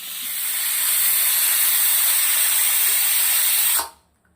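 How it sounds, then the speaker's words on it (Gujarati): Steam hisses loudly and steadily from a pressure cooker being vented after two whistles while urad dal puri and potato are cooked, a close, continuous rushing spray that cuts off abruptly near the end. "બે સીટી પડી ગઈ છે હવે કુકરની આ હવા કાઢી અને પછી આપણે કુકર ખોલી દઈશું"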